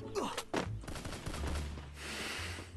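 Gunfire in the battle-royale shooter Free Fire, a few sharp shots near the start followed by a rumbling, noisy stretch, with brief voices mixed in.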